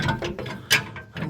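A hand ratchet clicks close up in quick repeated strokes while fuel tank brackets are bolted up under a 2018 70 Series dual cab Landcruiser during a Brown and Davis 185L tank install.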